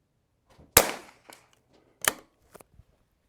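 An Anschutz 1727F rimfire .22 rifle fires two sharp, fairly quiet shots outdoors about a second apart, each a brief crack with a short tail, followed by faint small clicks.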